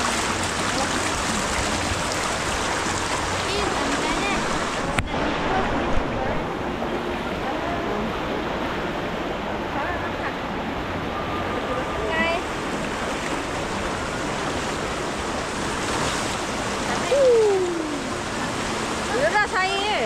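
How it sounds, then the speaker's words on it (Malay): Fast-flowing river water at a night campsite rushes as a steady, loud broadband roar throughout, with brief faint chirps and a thump heard over it. "Air dia deras gila."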